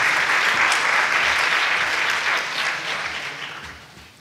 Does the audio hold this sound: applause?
yes